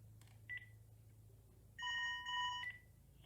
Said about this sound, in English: So let me get the phone going.